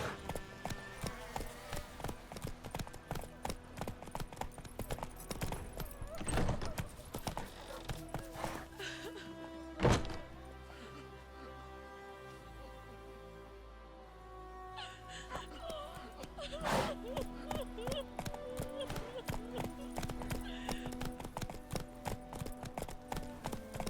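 Horse galloping in The Witcher 3, a rapid run of hoofbeats that drops away midway and picks back up, with a rider's voice, gasps and game sounds mixed in.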